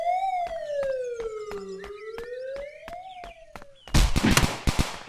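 A police or ambulance siren in the video game Dude Theft Wars wails in one long rising and falling tone, then gives way to a burst of sharp cracking bangs at the end.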